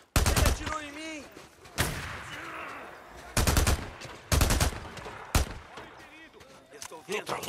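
Enemy gunfire at a roadside checkpoint in Days Gone, a survival game: several sharp, loud bursts of rapid shots separated by pauses, with someone speaking between the volleys.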